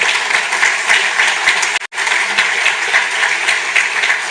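Loud audience applause for parliamentarian Germán Terés, dense continuous clapping with a brief cut in the middle before it resumes at full strength.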